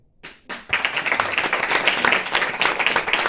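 An audience at a Hindi-language speech claps in a dense, steady burst of applause that starts after a couple of isolated claps and stays fairly loud throughout.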